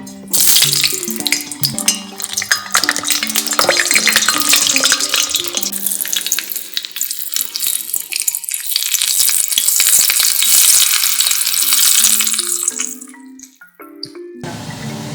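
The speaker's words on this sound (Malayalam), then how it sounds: "ഓക്കെ, അപ്പോൾ ഇതൊരു 3 മിനിറ്റ് ഫ്രൈ ആയി. മീഡിയം ടു ഹൈ ഫ്ലെയിമിൽ." Potatoes cut for Kerala-style french fries frying in hot oil over a medium-high flame, a loud, steady sizzle and bubbling that continues throughout with occasional stirring clatter, briefly dipping near the end.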